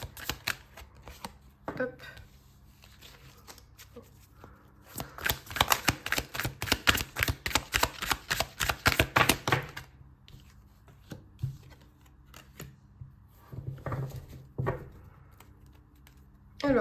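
Tarot cards being shuffled by hand, a quiet opening of scattered handling taps followed by a dense burst of rapid, crisp riffling flicks for about five seconds, then sporadic card slaps and a short spoken word.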